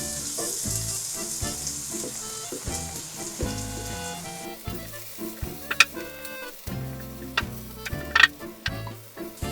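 Onions frying in oil in a pan at home, with a close crackling sizzle, rhythmic stirring clicks of a utensil against the pan and a few sharper taps near the end.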